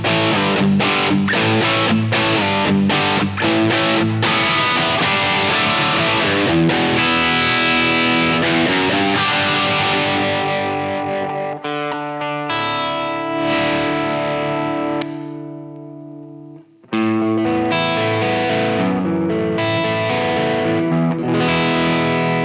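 An electric guitar plays through the Overloud TH-U Jim P Jimmy Crunch amp preset with room reverb, loud and crunchy, with driven strummed chords that give way to ringing sustained notes and then return to strumming.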